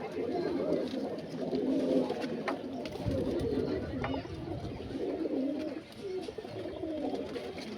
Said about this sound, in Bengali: এখানে একটা কাপাল ডর্টি পায়রা রয়েছে এক পেয়ার